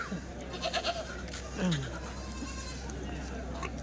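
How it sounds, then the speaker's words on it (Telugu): Goats and young kid goats bleat at a busy weekly livestock market in Kadiri. Two or three short, wavering bleats, the clearest one near the middle, rise over steady crowd murmur while people talk nearby. "పిల్ల మేకలు అయితే ఉన్నాయి"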